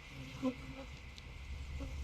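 Honey bees buzz around a hive while a nuc is moved into a full hive; a faint, steady hum sits under low background noise, with a brief closer buzz passing near the start.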